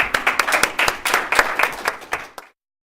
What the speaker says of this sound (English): let's give a round of applause to Peter Bridges.